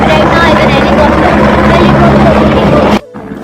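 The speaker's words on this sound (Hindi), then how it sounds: "हेलीकॉप्टर से जो हवा आ रही थी उसका आनंद उठा रहे थे हम लोग" A helicopter at the Kedarnath helipad roars loudly and steadily nearby, its rotor wash blasting before the sound cuts off abruptly near the end, leaving a faint residual hum.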